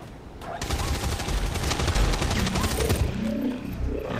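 Gunfire in XCOM 2 erupts as a dense, continuous burst of rapid shots lasting a few seconds, loud and close, tapering into a lower rumble at the end.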